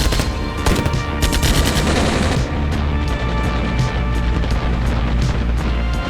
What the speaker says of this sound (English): Now the battle's raging on. Some serious urban combat going on.